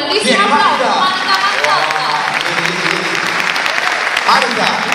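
Steady, dense applause from a theatre audience at the Teatro Filarmonico in Verona welcoming a singer onto the stage, loud and continuous for the whole stretch, with crowd chatter and a few cheers mixed into the clapping.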